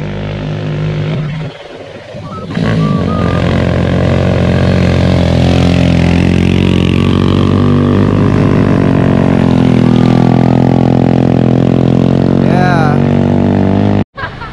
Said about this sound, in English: So here are incoming motorcycles to give you an idea of how steep this mountain is.